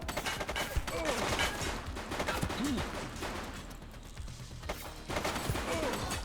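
Gunfire crackles through a shootout in the police video game The Precinct, rapid bursts of shots and impacts layered over music and game noise, dense and loud with a brief lull midway.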